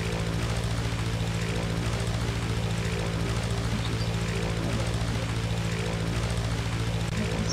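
Aircraft engine in Brick Rigs, a steady loud propeller-style drone with a constant low hum that holds unchanged throughout, close and continuous with no talking.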